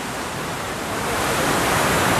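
Rushing water of Thottikallu waterfall in the rainy season: a dense, steady roar that swells slightly louder toward the end, with no voices.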